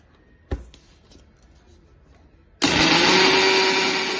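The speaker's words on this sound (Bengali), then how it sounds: "এবার এটাকে একসাথে গুঁড়ো করে নেব আমি" Electric grinder starts up suddenly after a quiet stretch, grinding black and white mustard seeds together into powder for kasundi, a loud steady whir that continues to the end.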